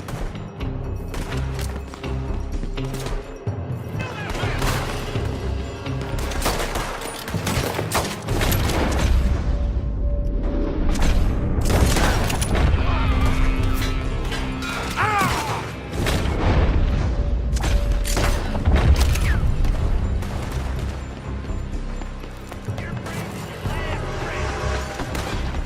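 Gunfire from a building in the Red Dead Redemption 2 game: sustained loud volleys of shots and heavy booms layered over dense action sounds and shouting voices, continuous throughout.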